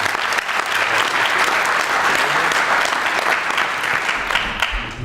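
Sustained applause from a crowd at an awards ceremony in Aveyron, France, steady and dense clapping filling the whole stretch without pause.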